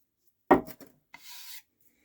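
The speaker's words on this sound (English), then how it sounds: "I just tried to sand it down like on this edge here" Sanding the sticky edge of a part from a 2002 Renault Laguna: one short, loud rasping stroke close up, a brief scrape after it, then a softer, steadier hiss of rubbing that lasts about half a second.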